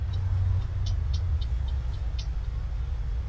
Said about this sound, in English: Trucks coming and going, picking it up, setting it down.